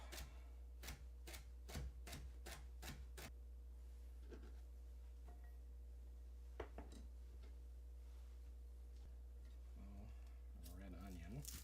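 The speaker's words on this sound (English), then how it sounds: "Chop them up." A knife chops celery on a cutting board in a row of quick, crisp taps that run steadily, then pause and return in scattered strokes, while a person talks over a steady low hum.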